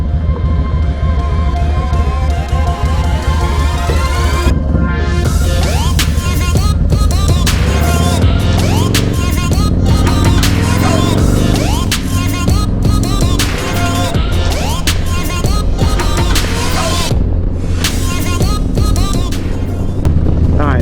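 A Harley Dyna motorcycle with a Saddlemen step-up seat rides along the road, its loud, steady engine drone heavy with wind rush and marked by repeated shifts in pitch.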